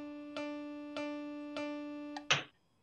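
Four evenly spaced notes of the same pitch are played in a steady beat, followed by a brief noisy click.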